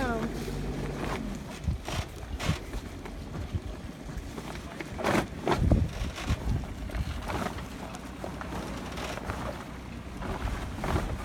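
A sailboat backs slowly out of a marina onto a lake, with water lapping and strong wind buffeting the microphone throughout, and occasional thumps and bumps close by.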